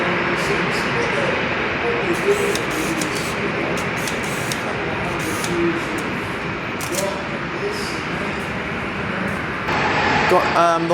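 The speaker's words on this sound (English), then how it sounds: "Got the white 737-800 taxiing out for takeoff." White Boeing 737-800 airliner taxiing out for takeoff at Perth airport, a steady broadband jet engine roar heard from an indoor viewing platform, continuous and fairly loud throughout.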